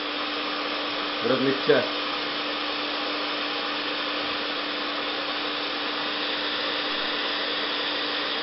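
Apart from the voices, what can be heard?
hot air blower heating a 12-gauge shotgun shell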